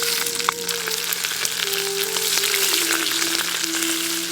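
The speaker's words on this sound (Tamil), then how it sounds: "இப்ப சின்ன வெங்காயத்தை சேர்த்துக்கலாம்." Small onions sizzle steadily in hot oil with fennel seeds in a pan, a continuous close frying crackle with faint stirring, no voices.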